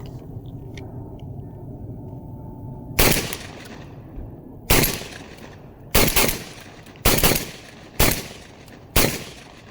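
Mac 1014 shotgun firing high brass shells outdoors, six loud, sharp blasts spaced about a second or more apart after a few seconds of low background rumble, each shot trailing into a brief echo.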